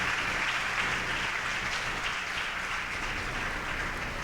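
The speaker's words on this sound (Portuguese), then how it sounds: "dá uma salva de palmas." A church congregation applauds in steady, dense clapping at a Sunday service, a continuous wash of hands from many people held at an even level throughout, with no voices standing out.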